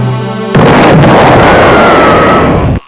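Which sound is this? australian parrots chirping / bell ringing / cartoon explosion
cartoon explosion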